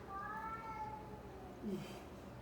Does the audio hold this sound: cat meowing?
yes